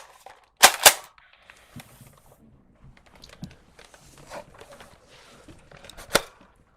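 In an Inside Out analog horror animation, two sharp shotgun blasts fire in quick succession, followed by faint rustling and clicks and a third loud shot a few seconds later.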